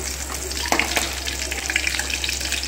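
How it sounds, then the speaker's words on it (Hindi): Green chillies frying slowly over a low flame, a soft steady sizzle with faint crackles running throughout, close and even, no talking. "मिर्चियों को ऐसे स्लो आंच पे भूनेंगे, वरना ये उड़ती है ना"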